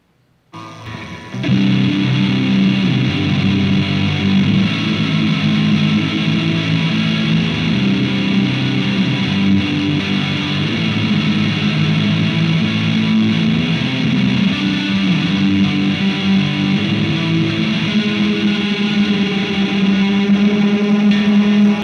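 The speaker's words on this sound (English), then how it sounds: "So I'm going to add distortion, and you're going to see how well it performs." A distorted electric guitar, played for a shoegaze/noise rock sound through a hall reverb, rings out loud and sustained, its gritty chords swimming in a long, spacious reverb tail, with no voices.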